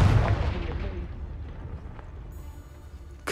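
A Confringo spell explodes in the Hogwarts Legacy video game: a loud blast opens the moment and rumbles away into a fading tail, then a sharp second hit lands right at the end.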